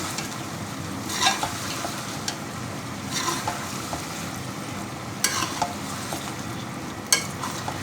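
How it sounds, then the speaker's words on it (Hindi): Finely chopped tinde (apple gourd) are stirred and fried with meat in a pan, a constant low sizzle broken by occasional sharper scrapes and clinks of the spoon. "मिक्स करके इसे भी भूनेंगे टिंडों को भी"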